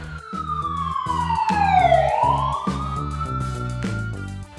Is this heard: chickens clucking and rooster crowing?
no